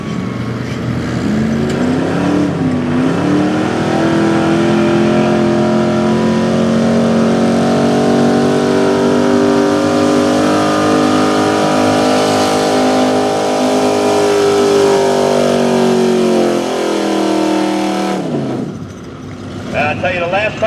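A Ford gas 4x4 pulling truck roars at a truck-pull competition, its engine climbing into a loud, sustained high-revving howl for most of the run before dropping off abruptly, with voices talking underneath.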